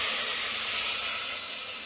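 Water poured into a hot pan while cooking mutton paya gives off a steady, loud hiss of steam that fills the whole moment with no voices.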